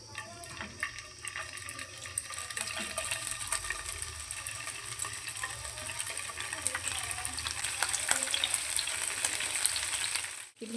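Paneer pieces fry in a pan of hot ghee and white oil, a steady close sizzle that stays loud and continuous, with faint clinks of stirring and no talking.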